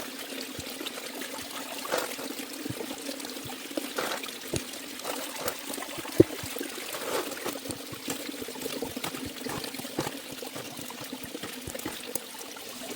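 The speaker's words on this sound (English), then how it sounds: "And the water really slows down." Water trickling and pouring over flood gravels in a small stream during gold prospecting, a steady close babble with scattered small splashes and drips, no speech.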